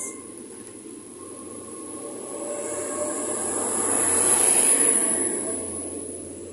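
Class 800 train 800303 pulls away from Penzance in Cornwall, bound for Plymouth. Its rumble builds to a peak and then eases slightly, with a steady high whine above the roll of the carriages.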